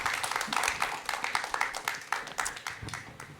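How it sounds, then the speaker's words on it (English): Applause for Elsa from a small studio audience at a business launch event, a thin patter of claps at moderate distance, fairly faint throughout. "A round of applause for Elsa"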